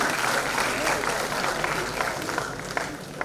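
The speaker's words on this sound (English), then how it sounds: "Please give them a huge round of applause." At the IEEE R10 Humanitarian Technology Conference, an audience welcomes dignitaries with a continuous wash of applause, steady and moderately loud, fading slightly toward the end.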